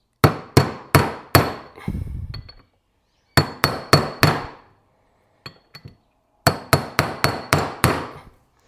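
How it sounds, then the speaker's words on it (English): Heavy blows from a big hammer ringing out in bursts while working on mini bike parts, several sharp metallic strikes in quick succession, separated by pauses. "I need a better hammer. This hammer sucks. Let me get my big one."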